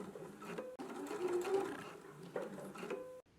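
A sewing machine stitches steadily to tack down knit fabric, a continuous close mechanical whir with short pauses and restarts, no voices.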